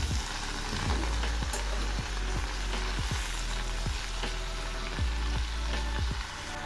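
Spinach fries in a pan with a continuous sizzle while a utensil scrapes and knocks against the pan in an uneven rhythm. No voices are present.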